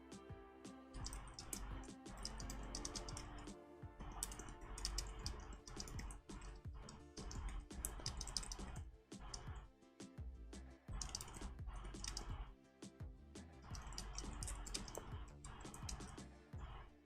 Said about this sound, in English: Just out of curiosity, Ink, are you able to hear the clacking of my keyboard tonight?